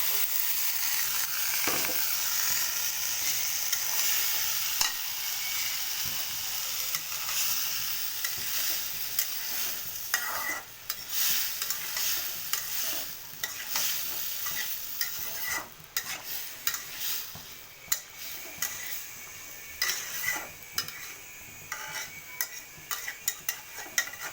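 Sweet pumpkin pieces being stir-fried with shrimp in a pan sizzle steadily while a spatula scrapes and stirs repeatedly, the frying hiss fluctuating as the pieces are turned.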